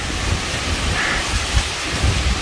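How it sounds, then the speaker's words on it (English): Rain and distant rumbling thunder from a storm rolling over the jungle near the town of Nauta in Peru, a steady broadband wash with low rolling swells throughout. "looks like we got a crazy storm coming in here"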